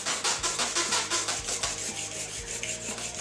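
A GROZ plane blade scrapes back and forth on a grindstone as it is sharpened, with steady rhythmic rasping strokes heard up close and alone.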